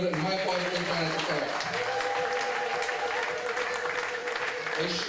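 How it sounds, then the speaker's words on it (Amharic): Audience at a church gathering clapping in continuous applause, a dense, steady patter that carries through the whole stretch, with voices mixed in. "እስቲ ለእግዚአብሔር ክብር የማይቋረጥ ጭብጨባ።"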